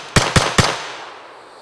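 Three sharp, loud gunshots from an FN P90 bullpup firearm, evenly spaced about a fifth of a second apart, each with a brief echoing tail that fades into quiet.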